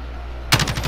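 A quick burst of automatic gunfire in a shooter game: several rapid, loud cracks fire in a tight rhythm after a steady low hum.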